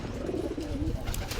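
A pigeon gives a single soft, close coo, a brief low throaty call with light background noise.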